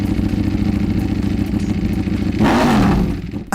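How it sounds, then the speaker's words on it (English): A Ducati Multistrada V4 motorcycle engine with twin pulse firing order rumbles steadily with a deep pulsing throb, then revs up briefly near the end before dropping off. "the twin pulse firing order that gives this V4 engine its own distinctive sound"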